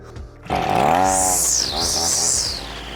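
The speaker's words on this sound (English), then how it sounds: "let's finish mowing Rob's lawn" A lawn mower cuts a lawn, its engine rising and falling in pitch with a rough, revving drone that swells after a brief quieter start and stays close and loud.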